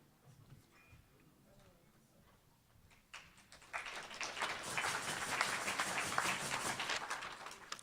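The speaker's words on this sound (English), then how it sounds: "That was a golf clap." Light, polite golf clap from a Rotary Club audience at a meeting, starting as sparse scattered claps and swelling after a few seconds into steadier soft applause that runs to the end.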